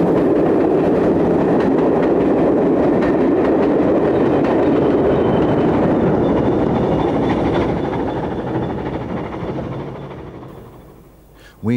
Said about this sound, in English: an XBR Class 20 diesel, now used on Metropolitan Engineers trains